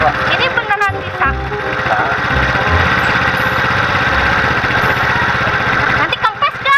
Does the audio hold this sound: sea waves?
no